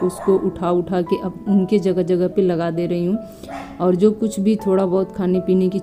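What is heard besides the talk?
dogs barking outside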